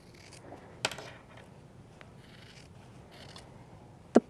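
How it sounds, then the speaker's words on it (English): Sharp scissors trimming a fabric seam allowance by a zipper on a pencil skirt: a few faint, isolated snips, one near the start and a sharper one at the end, over quiet room tone, no talking. "get under there with a nice pair of sharp scissors and trim away this seam allowance"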